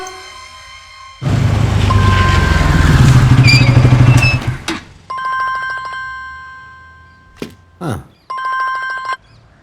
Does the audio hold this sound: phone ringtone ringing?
yes